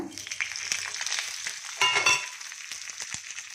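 Lentils, mustard seeds, cumin and curry leaves hit hot oil for tempering, a bright crackling sizzle close up that surges briefly midway then settles into steady spitting.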